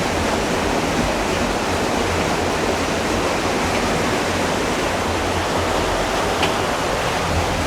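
Water at an old mill in Chaniers roars without a break, a dense, even rush of falling water close by that drowns everything else.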